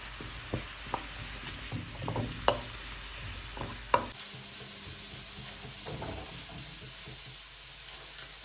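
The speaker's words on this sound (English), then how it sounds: "I'm cooking my soup, although it might be a little bit loud with the mushrooms" Mushrooms for soup frying in a pan, a steady close sizzle with scattered clicks and scraping stirs, the hiss thinning partway through before the sizzling carries on alone.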